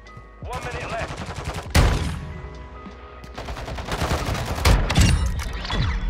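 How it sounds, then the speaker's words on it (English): Shotgun slugs fire in a shooter game as sharp, close blasts, one heavy report near the start and a tight cluster later, set among rapid clattering gunfire with a voice talking in between. "That was a shotgun?"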